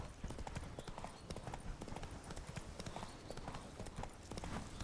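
Rapid, continuous hoofbeats of the horse Roach galloping in The Witcher 3, a dense, rhythmic clip-clop drumming steadily throughout at moderate volume.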